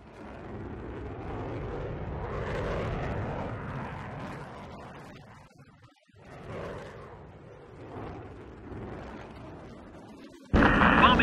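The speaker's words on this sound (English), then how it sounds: "Bomb hit positive." In the Air Conflicts Vietnam video game, rumbling bomb explosions roll out with the low drone of aircraft, rising and fading in long swells, then a sudden louder burst at the end.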